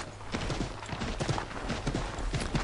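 Horse hooves clip-clopping at a steady trot during a ride in Assassin's Creed 3, the rhythmic beats close and fairly loud over low background game ambience, with no talk.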